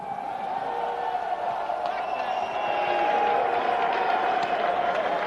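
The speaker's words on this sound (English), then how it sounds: "Big round of applause." Crowd applause and scattered cheering at a wrestling versus jiu-jitsu fight event after Dan Severn is introduced, a broad sustained roar, moderately loud, with a steady tone and some voices running through it.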